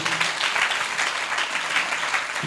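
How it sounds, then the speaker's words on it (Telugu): Audience applause at a church memorial gathering in Pragadava, a steady, dense wash of many hands clapping close and loud throughout, with no speech over it. "అందరం గట్టిగా చప్పట్లు కొడుతూ"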